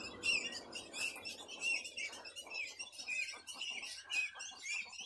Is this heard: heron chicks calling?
yes